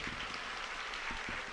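Audience applause at a live poetry recital fills the space as a steady, dense wash of clapping, fairly faint and continuous throughout.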